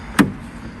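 A Peugeot 309 1.9 diesel car door opening with a single sharp click of the latch, followed by a brief fading rattle, close and alone.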